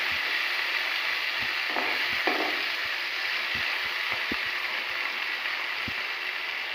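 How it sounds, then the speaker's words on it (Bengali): Pieces of salted ghusho fish fry in a kadai, giving a steady, even sizzle with a few faint clicks and scrapes of utensils against the pan, close and continuous, with no voices. "আমি এবার ঘুষো মাছটা ভাজতে দিয়ে দেব"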